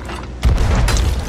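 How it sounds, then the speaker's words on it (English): A ship's cannon fires once in the Sea of Thieves pirate game: a loud, close, deep boom with a sharp crack, then a rumbling tail, over steady game noise. "I got a cannon real quick"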